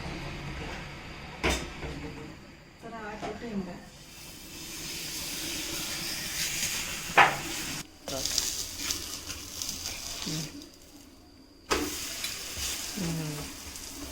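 Holige flatbread cooking with a little oil on a hot tawa gives a steady hiss and sizzle, broken by occasional clinks and scrapes of a utensil and a brief sharp crackle.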